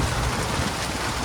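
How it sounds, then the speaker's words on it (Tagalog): Heavy rain pours down during a storm in Mindanao as a dense, steady, loud rush of drops nearby, with no voices. "Kaputol-putol na yung tulog natin dahil sa ulan."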